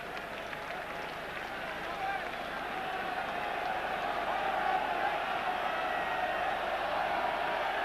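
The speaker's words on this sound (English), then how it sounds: "And now the crowd really coming to life." Rugby stadium crowd at a 1984 Five Nations match between England and Wales in London, a steady, swelling roar of cheering and applause that grows louder throughout, with a commentator talking over it.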